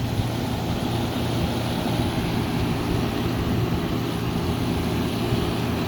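A 1970s Admiral Super Deluxe window air conditioner runs steadily, its compressor and fan making a loud, even droning hum with a low rumble that holds unbroken from start to finish, with no voices.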